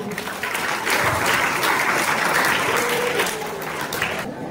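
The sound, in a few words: audience applause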